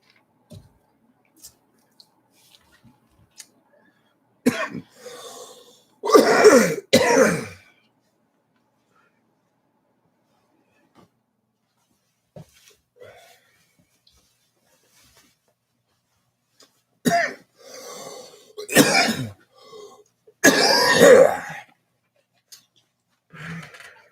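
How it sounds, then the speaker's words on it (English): Several harsh coughs in two clusters, separated by quiet stretches with faint small noises, close to the listener. "I'm tired of coughing."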